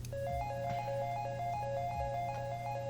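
A synth arpeggiator plays the melody in the second part of a trap beat hook, with bright, quick repeating notes cycling in a steady loop over low hum and occasional deep kick thumps. No talking.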